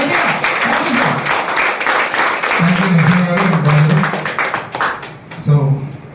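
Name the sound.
audience applause at an event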